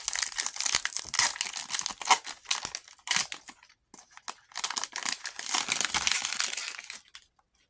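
A Magic: The Gathering Edge of Eternities booster pack wrapper is torn and crinkled open, its loud, close foil crackling and ripping continuing for several seconds before trailing off into quiet.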